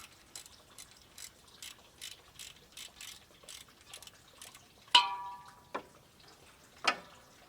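Socket ratchet turning the heater core bolts on a 1982 Jeep CJ7, a series of short clicking bursts in an even rhythm, followed by a few sharper metallic clinks, close and clear with no talk.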